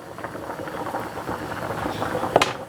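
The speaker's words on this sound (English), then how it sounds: "spoon off some of the pasta water from your boiling pasta" Pasta water boiling in a pot, a soft, continuous bubbling and popping close by, with a brief clink near the end.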